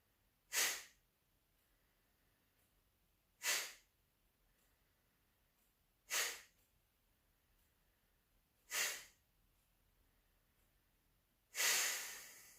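Deep exhalations during a pranayama breathing exercise, five slow, evenly spaced breaths about three seconds apart, close and soft against near silence, the last one longer and fuller.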